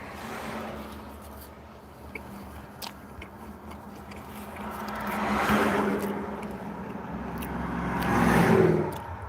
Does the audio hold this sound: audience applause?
no